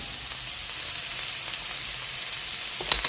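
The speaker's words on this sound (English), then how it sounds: "Peas are in. Peppers, onions. Let it all cook up a little bit." Peas, peppers and onions frying in a pan for egg fried rice, giving a continuous broadband sizzle at steady moderate loudness, with a brief stir near the end and no voices.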